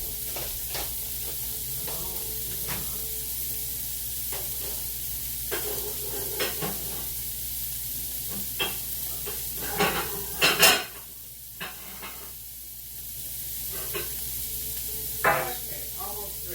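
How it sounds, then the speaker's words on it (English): Onions sauté in a pan alongside green beans for a Sunday dinner, with a steady soft sizzle under repeated clinks and scrapes of utensils against cookware, close by and fairly busy. "I'm going to go ahead and let those onions saute a little bit more for the green beans."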